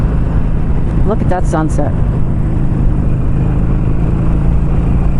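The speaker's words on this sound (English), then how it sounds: "I've also been wanting to ride this Harley, so this gave me a chance to ride my husband's bike home." Harley-Davidson Sportster Classic motorcycle being ridden on the road, a constant deep rumbling engine note with strong low-frequency pulses, while a rider's voice speaks briefly over it.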